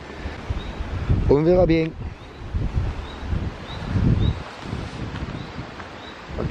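Strong storm wind from Storm Miguel buffets a cheap low-cost greenhouse, a steady broadband roar swelling and easing in gusts; someone speaks briefly near the start.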